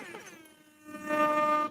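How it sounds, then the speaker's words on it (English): An air horn blasts during a live watchalong of the Euro 2024 Netherlands versus France football match, a short loud blaring tone that swells and cuts off sharply. "Sorry if the air horn is too loud."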